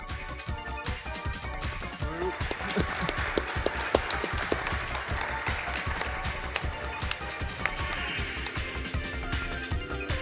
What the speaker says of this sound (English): give a round of applause for Flying Fox in Sonic CD